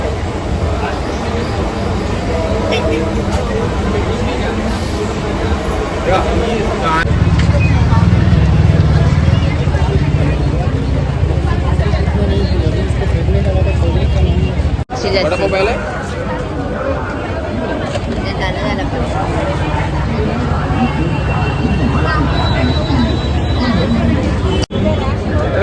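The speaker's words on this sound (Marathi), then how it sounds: "ट्रेनमध्ये बसलोय म्हणजे विषय संपला." Inside a moving train, a loud steady rumble of the carriage with a low droning hum and rattling, under the chatter and babble of people talking throughout.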